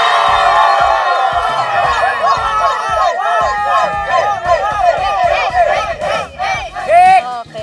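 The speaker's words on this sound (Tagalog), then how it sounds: "isang sigawan naman dyan!" A studio audience on a Filipino variety show shouts and cheers loudly, with whoops and high excited voices rising and falling in waves, building to a peak near the end.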